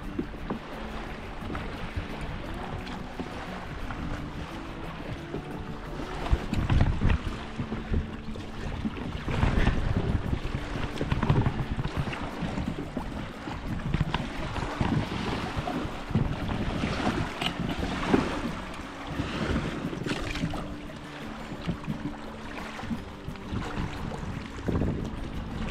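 Wind gusts against a kayak pushed onto a lakeshore in winter, a continuous buffeting rumble with rising and falling surges throughout and no voices.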